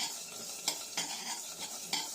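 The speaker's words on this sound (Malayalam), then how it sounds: "ഉലുവൊക്കെ ഏകദേശം വറുത്ത് വന്നിട്ടുണ്ട്." Fenugreek seeds roast quietly in a pan, with a faint sizzle and four or five rhythmic scraping strokes of a spoon stirring them.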